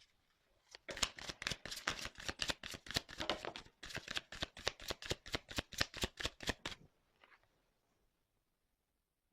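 Tarot cards are shuffled for a reading in a quick, steady run of about twenty crisp riffling flicks lasting several seconds, then falling silent.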